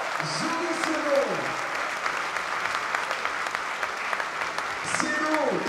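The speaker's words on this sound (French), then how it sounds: "On les applaudit trop fort, les gars." A crowd applauds Aviron Bayonnais rugby players at a squad presentation: steady, dense clapping throughout, with a voice speaking over it at the start and again near the end.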